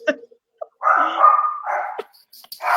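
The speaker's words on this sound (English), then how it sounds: "Her puppy is barking." A puppy barks indoors in a few sharp yips followed by a longer, drawn-out whining bark and a final short bark, loud and close with pauses between.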